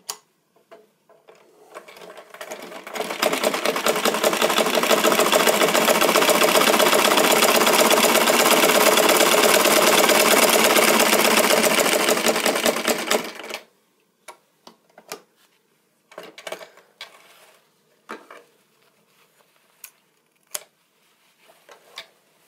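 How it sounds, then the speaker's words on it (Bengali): A sewing machine stitching a new seam, a loud, fast, steady whirring with rapid ticking that runs for about ten seconds, then stops, followed by scattered light clicks and handling sounds. "তো আমি নতুন করে সেলাই করতেছি, আপনারা দেখুন এই পাশ দিয়ে নতুন একটি সেলাই করব।"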